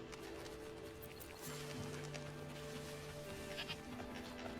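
A goat in a video game bleats repeatedly in a wavering, nasal call over quiet ambient game background, moderately close and clear.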